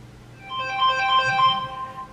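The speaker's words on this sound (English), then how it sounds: "So let's see what this phone call is." Phone ringtone for an incoming call, a short electronic melody of repeated tones that swells and fades, heard alone and at moderate volume.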